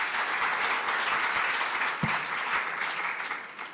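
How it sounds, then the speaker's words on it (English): An audience applauds steadily at a celebration gathering, a thick continuous patter of many clapping hands with a single louder thump partway through. "Please give her a big round of applause"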